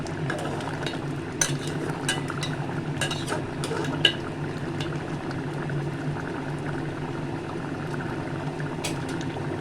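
A pan of prawn and brinjal curry bubbles on a steady low simmer throughout, with occasional soft clicks and knocks from utensils and no talking.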